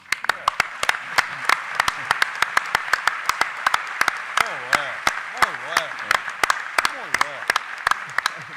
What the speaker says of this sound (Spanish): Mirá, Martina te aplaude de pie, Martina.